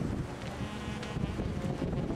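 Steady wind buffeting outdoors on the Baku seaside boulevard, a continuous low rumbling rush with gusty swells, moderately loud and without voices.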